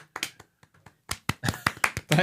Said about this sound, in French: On va se donner une main d'applaudissement mutuelle